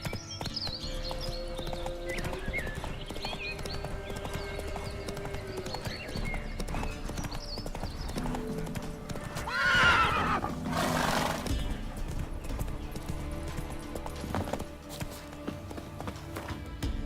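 Roach, the horse in The Witcher 3, gallops in a quick continuous clip-clop of hooves, with a loud neigh and snort bursting out near the middle over a low musical bed and no talking.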